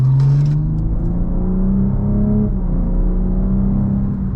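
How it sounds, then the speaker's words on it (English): A BMW M2 accelerating, its engine revving in a loud, steady drone that climbs smoothly in pitch, heard from inside the cabin with no talking. "Just gonna give it a little bit of gas here."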